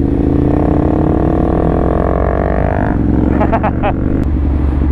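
A Ducati Monster motorcycle with a freshly replaced chain and sprockets rides nearby, its engine drone rising in pitch as it accelerates and then dropping back, with wind noise and someone talking over it.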